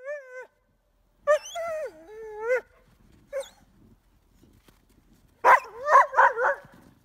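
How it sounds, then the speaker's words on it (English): West Siberian Laika hunting dogs give high whimpers and whines, then a short burst of several close, sharp barks, separated by quiet gaps. "These are indigenous hunting dogs, selectively bred by indigenous people in Siberia."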